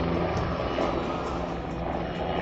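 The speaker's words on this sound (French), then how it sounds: "Donc le tigre que vous voyez évoluer, il correspond à la version HAP, l'hélicoptère d'appui de protection." A Tiger attack helicopter in its HAP support-and-protection version flies aerobatics at an airport display, its rotor and turbine producing a steady, loud broadband roar with no speech.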